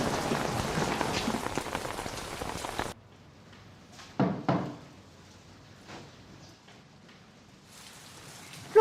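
Heavy rain pours down in a dense, steady hiss for about three seconds, then cuts off abruptly to near quiet, broken by a couple of soft knocks.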